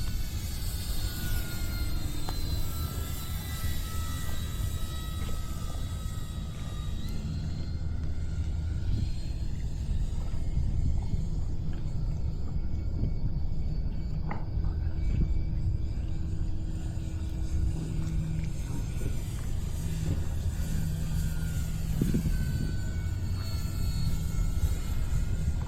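An Eflite Turbo Timber Evolution V2 RC float plane flies over water near a dock, its electric motor whining steadily and shifting pitch as it passes, over a constant low wind rumble. No one speaks.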